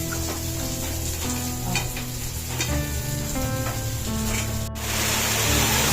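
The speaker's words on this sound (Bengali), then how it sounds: "শুধু তেল দিয়ে এখন একটু ভেজে নিচ্ছে" Bitter gourd, potato and eggplant fry in oil with a steady, loud, continuous sizzle and occasional stirring scrapes, close up and with no talking.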